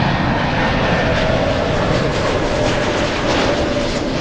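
Delta airliner jet engines roaring at LAX airport as a flight to Kahului pushes back, a loud, steady, broadband rumble and whine that fills the whole stretch without a break.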